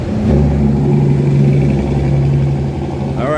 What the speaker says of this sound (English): Oh, look at dirt truck.